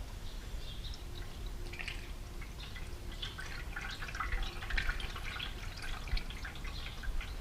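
Bright green ethylene glycol coolant pours through a funnel into the radiator of a Ford 2810 tractor, a faint steady trickle with small drips and gurgles, no voices.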